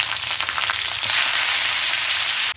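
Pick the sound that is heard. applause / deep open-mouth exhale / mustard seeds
mustard seeds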